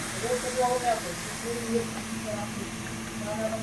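Mutton and fenugreek leaves sizzle in a pan with a continuous soft hiss, heard beneath someone talking nearby.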